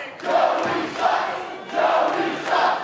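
Wrestling crowd in Norfolk jeering and booing wrestler Joe Keys, a loud massed roar that swells in waves, peaking about every second and a half, with no talk over it.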